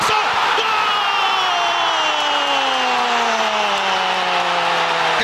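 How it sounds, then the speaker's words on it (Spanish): A football stadium crowd at a UDG cup match roars loud and continuous, with rising chant-like tones that slowly slide lower. "crece el grito de UDG"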